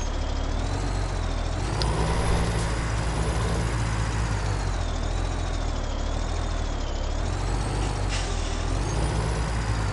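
A truck hauling a trailer in the video game Farming Simulator 17 gives a steady loud engine drone with a long hissing air brake release throughout and faint wavering whines, continuous for about ten seconds without talk.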